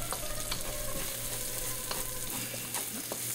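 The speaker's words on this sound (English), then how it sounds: "Now that is what we call sauteing your veggies" Vegetables sautéing in hot oil for General Tso's chicken, a steady close sizzle and fry with scattered stirring clicks and scrapes of a utensil in the pan, no voices.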